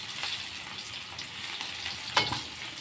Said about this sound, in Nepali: मैले चाहिँ यहाँनिर साग भुट्नु लागेको छु साथीहरू।